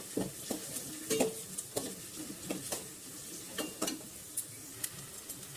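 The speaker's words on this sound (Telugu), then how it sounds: "ఇది మంచిగా గోల్డెన్ బ్రౌన్ వచ్చేంత వరకు ఫ్రై చేసుకోవాలి." Two large onions fry in oil toward golden brown, a soft background sizzle punctuated by regular spoon stirs and scrapes against the pan, quiet and close.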